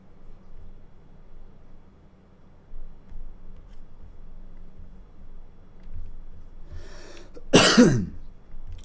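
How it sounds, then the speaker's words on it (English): A man coughs once, loud and close, after several seconds of quiet room hiss, during a stock and crypto trading session. "Sorry, guys, for coughing in your ear."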